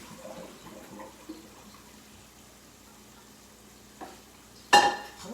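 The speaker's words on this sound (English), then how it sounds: "we're going to take our noodles off of the water" Cooked noodles for Vietnamese summer rolls are drained of their water. A quiet kitchen gives way to a sudden, loud splashing pour near the end that fades quickly.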